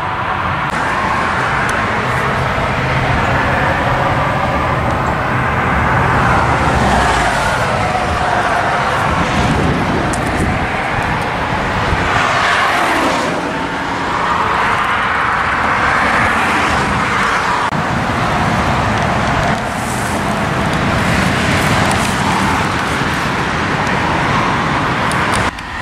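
A 1971 Pontiac LeMans Sport drives along, its engine giving a loud, continuous roar with road and wind noise that rises and falls steadily and never lets up.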